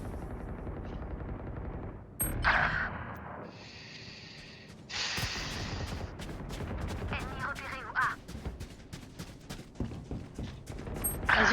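Video game gunfire during a multiplayer match, rapid bursts of shots mixed with dense game sounds and effects, with players' voices talking over the action.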